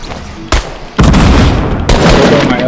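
Gunfire from an SMG in a shooter video game: a sharp shot followed by loud, dense bursts of rapid fire with booming impacts, close and harsh.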